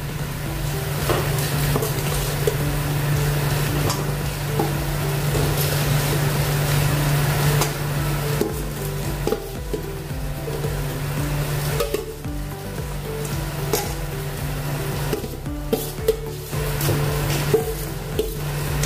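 Okra sizzles and fries in a spiced pan on a lowered gas flame, a steady close crackle with scraping and stirring noises and a low hum running underneath.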